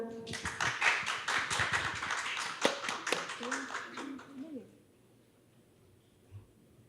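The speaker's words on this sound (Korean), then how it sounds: "모두 큰 박수로 모시겠습니다." Audience applause at a Korean AI panel discussion event welcoming panel speakers, a dense burst of clapping for about four seconds that fades out, then near silence.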